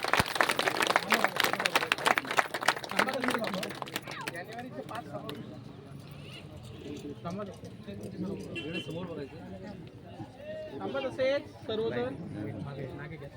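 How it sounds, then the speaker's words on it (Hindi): An audience at a calendar release event gives a burst of loud applause that fades after a few seconds, leaving someone speaking in Hindi over lingering scattered claps and crowd noise. "एक बार जोरदार ताली हो जाए"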